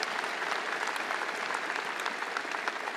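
A convocation audience gives sustained, even applause for the college's key leaders, a dense wash of many hands clapping steadily throughout with no voices over it.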